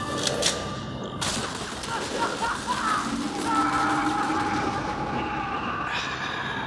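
Several gunshot-like bangs from an SG-12 Breaker assault shotgun, set in a Helldivers 2 fan-made radio piece, crack out at the start. A rumbling, rattling mechanical bed with tonal whines follows, and no voices are heard.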